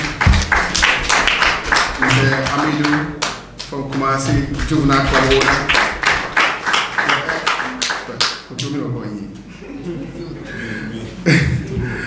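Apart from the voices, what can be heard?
audience clapping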